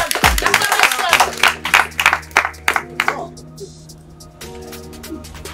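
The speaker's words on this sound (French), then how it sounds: "On a fait acclamation." Audience applause at a comedy show, with a burst of clapping up front that breaks into scattered claps and thins to a faint patter, over a sustained low musical hum and voices.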